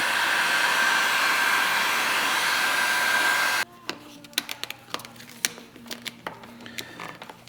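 Heat gun blowing on vinyl wrap film laid over a car's front bumper: a steady loud airy whir for a few seconds that cuts off abruptly, followed by scattered soft clicks and crinkles of film being handled.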